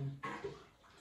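Tap water running while dishes are washed at home, a brief, faint burst of splashing and flow in a quiet room.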